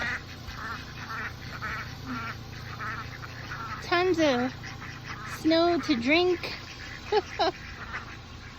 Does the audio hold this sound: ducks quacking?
yes